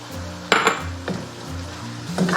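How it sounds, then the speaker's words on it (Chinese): Jiangxi rice noodles with egg, soy sauce and seasonings being tossed in a small wok over medium-high heat: a few sharp clanks of the spatula against the pan over a steady low sizzle. "开中大火给它翻炒均匀。"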